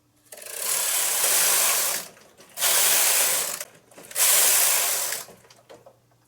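A knitting machine carriage is pushed across the bed for rows of a top-down set-in-sleeve sweater, making three long ratcheting, clattering passes with short pauses between them, close and clear.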